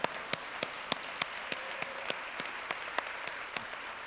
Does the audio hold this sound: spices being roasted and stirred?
no